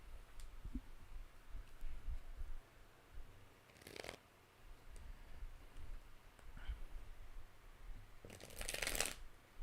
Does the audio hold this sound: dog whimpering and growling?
no